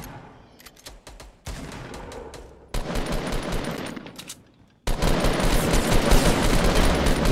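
Sustained gunfire in the Fortnite video game, with bursts of rapid automatic shots that grow denser and louder toward the end, with no talking.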